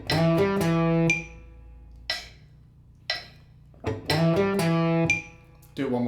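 An electric guitar plays a short riff in a few separate bursts: plucked, ringing notes and chords with brief pauses between them, clear and close.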